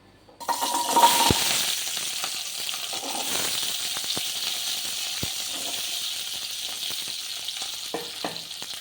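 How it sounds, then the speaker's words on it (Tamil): Shallots, ginger, garlic and tomato sizzle in hot oil for a traditional fish curry, a steady close frying hiss broken by a few sharp clinks and scrapes of stirring, with no voices. "இப்போ நம்ம இதில் வதக்கிறதுலாம் சின்ன வெங்காயம், இஞ்சி, பூண்டு, தக்காளி எல்லாத்தையும் வதக்கிக்கலாம்"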